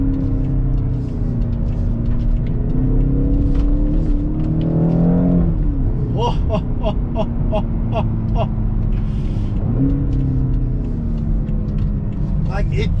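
A 2016 BMW X5 M engine holds a steady low drone, then revs climb and dip as it accelerates in second gear, with an excited voice whooping over it.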